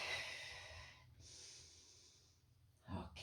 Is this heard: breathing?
yes